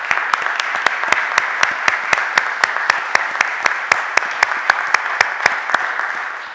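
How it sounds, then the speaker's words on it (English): Steady applause fills a city council chamber during a public meeting, a round of clapping that holds at an even level for several seconds with sharp individual claps standing out. "Can you stand up so we can give you a round of applause"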